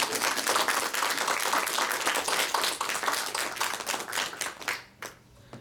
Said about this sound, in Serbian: jedan aplauz i za Anu, mogu se